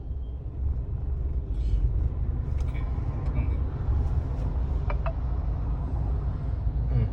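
A Maruti Suzuki Swift's engine running steadily in second gear, a constant low rumble and road drone from inside the car, with a person talking over it.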